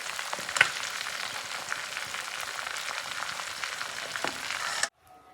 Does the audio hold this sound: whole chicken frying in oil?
yes